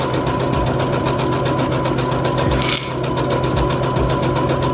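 A sewing machine stitching a teddy bear ski mask runs in a steady, fast mechanical rhythm with a low motor hum, close and continuous throughout, with one brief pause near the middle.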